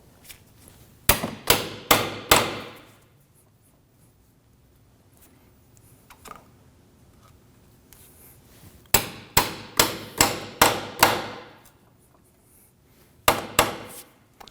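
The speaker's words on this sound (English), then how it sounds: "use a pry bar and a hammer to go into the split between the ball joint" Three bursts of sharp metallic hammer blows on a pry bar driven between the ball joint and knuckle of a 2013-2015 Subaru XV Crosstrek, four or five strikes each in quick rhythm, separated by quiet pauses; close and loud.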